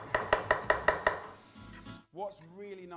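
A knife thinly slicing a peeled garlic clove on a cutting board, six quick evenly spaced taps in a crisp run, followed by a voice speaking.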